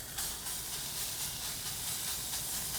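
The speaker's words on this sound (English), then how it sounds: "Let's start to render out that fat and crisp up the bacon." Bacon sizzles in a Lodge cast iron pan over hot charcoal, a steady, fairly quiet hiss of rendering fat that holds evenly throughout with no voices.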